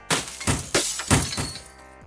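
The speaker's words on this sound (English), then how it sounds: "We all started smashing the teacher's phone with our hammers." Hammers strike a teacher's phone in a classroom, giving four or five sharp, cracking smashes about a quarter second apart, loud and close, with no talking.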